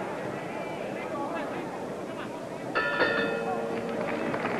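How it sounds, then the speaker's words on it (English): A bell clangs near the end of round 9 of a Jose Torres versus Eddie Cotton professional boxing match in Las Vegas, ringing out with sustained metallic tones over steady crowd noise and a commentator talking. "that's the bell for round 9"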